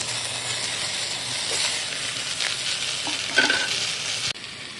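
Marinated pabda fish goes into a hot pan of oil with lightly fried brinjal for a mustard and green chilli tel jhal, giving a loud, steady sizzle and hiss with some stirring, then dropping off sharply near the end.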